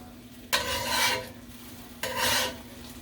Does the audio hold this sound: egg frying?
yes